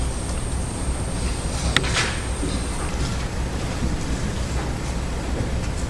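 Steady rain falls outdoors in a dark thunderstorm, a dense continuous hiss with a low rumbling undertone throughout and a brief sharp crackle partway through.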